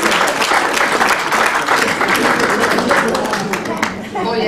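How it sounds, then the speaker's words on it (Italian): A festive association gathering audience applauds a professor in a sustained burst of dense clapping, loud and close, with a voice joining in near the end. "Io un applauso al professore perché mi sente."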